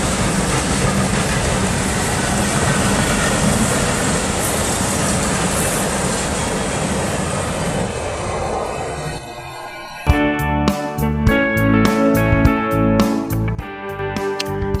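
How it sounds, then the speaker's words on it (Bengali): A train passes through Abdulpur railway junction toward North Bengal, rumbling steadily, then the rhythmic clickety-clack of wheels over rail joints takes over, loud and close, with no voices. "এই ট্রেনটি চলে যাচ্ছে উত্তরবঙ্গের দিকে"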